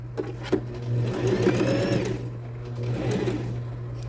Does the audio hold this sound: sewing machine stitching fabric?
yes